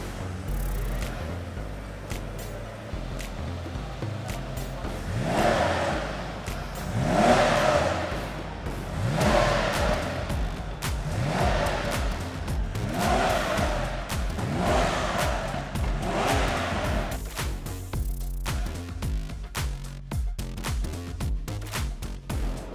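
Vintage car engine starting and revving to high rpm at a Bangkok Cars & Coffee meet, with about six rising, roaring revs in a steady rhythm followed by a settling idle, loud and close.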